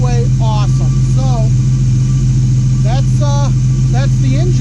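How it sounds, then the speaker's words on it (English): A car engine idles steadily with a constant low hum throughout, while a person talks over it. "that's the engine"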